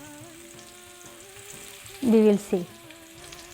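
Spicy potatoes fry slowly in a pan over a low flame, giving a soft, steady sizzle. A voice speaks briefly midway over the sizzle.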